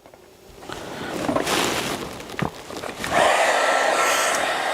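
Heat tool blowing a steady hiss as it warms and melts heart-shaped craft die cuts for Valentine's Day, loud and continuous with a brief pause, then resuming stronger and closer.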